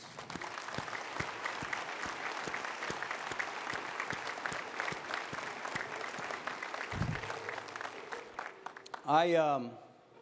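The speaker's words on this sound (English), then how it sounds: "I'd like you to give them a round of applause." An audience at a military address by an Air Force general applauds steadily for around nine seconds, with crisp individual claps through the wash, before a voice speaks at the end.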